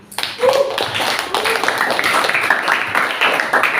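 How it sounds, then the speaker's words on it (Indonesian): A group of students claps together in steady applause, while a voice speaks briefly over the clapping. "Kasih tepuk tangan."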